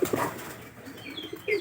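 Several pairs of domestic pigeons kept by a breeder, some nesting on eggs, give soft close cooing calls with faint wing rustles.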